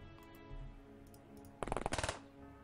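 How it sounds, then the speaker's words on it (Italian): A cannon fires in the video game The X-COM Files, a short rapid burst of shots lasting about half a second, loud against an otherwise quiet game background. "Sono curioso di vedere come spara il cannone."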